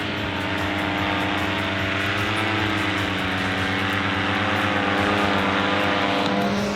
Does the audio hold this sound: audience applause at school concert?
no